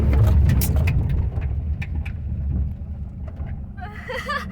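A car engine is revved on a road, a loud rumbling drone with wind buffeting that eases and rises again, while people talk over it.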